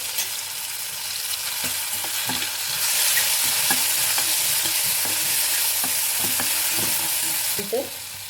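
Garlic, green chili and coriander paste dropped into hot oil with cumin seeds, giving a loud steady sizzle and frying hiss with intermittent stirring scrapes of a spoon against the pan, no voices.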